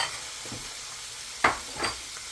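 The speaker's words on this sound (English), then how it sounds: "I didn't have to add more oil to the pan, and you hear that it's singing a little bit" A soft, steady hiss of oil sizzling in a pan, with a couple of brief scraping stirs over the frizzle.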